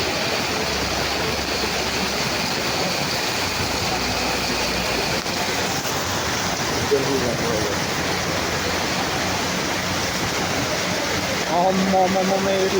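Heavy rain pouring steadily outdoors, a dense constant hiss with no breaks, with faint voices talking under it toward the end.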